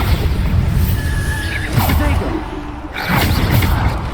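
Exploding Bombarda spells cast in Hogwarts Legacy during a duel, making muffled booms and bursts with whooshing debris. A voice talks and shouts excitedly over the blasts.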